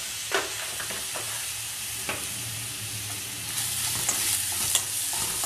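Salted vegetables fry in a pan with a continuous bright sizzle, punctuated by occasional spatula clicks and scrapes, close up and with no one talking.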